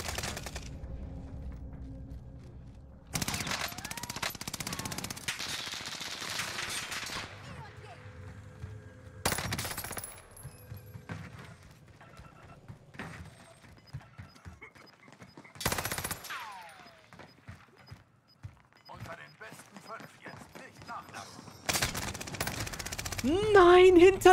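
Gunfire in Call of Duty Warzone, loud bursts of automatic fire broken by quiet gaps, with a player talking excitedly in between.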